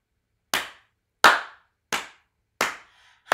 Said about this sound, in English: Let's all clap together.